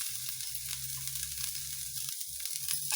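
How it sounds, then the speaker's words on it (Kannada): Onions frying in a little oil in a pan, a soft, continuous crackling sizzle at close range with no talking. "ಇದು ಸ್ವಲ್ಪ ಫ್ರೈ ಆದರೆ ಸಾಕು."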